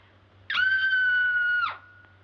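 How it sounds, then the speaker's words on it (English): A woman lets out one sustained, high, piercing scream of nervousness lasting about a second, loud and close, against a low steady hum. "I'm so nervous I could scream. In fact, I think I will."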